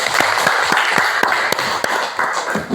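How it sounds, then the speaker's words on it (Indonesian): Children in a classroom clap their hands together in a quick patterned rhythm, about a dozen sharp claps in groups, close and fairly loud. "Tepuk tangan dulu."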